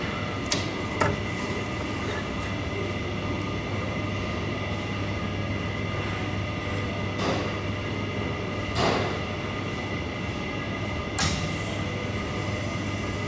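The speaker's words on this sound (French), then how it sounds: "On a pu voir le début le démarrage des deux ventilos, donc c'est bon." Two evaporator fan motors in a cold room spin up after being rewired, giving a steady mechanical hum with a constant low drone, broken by a few sharp clicks and brief bursts of noise.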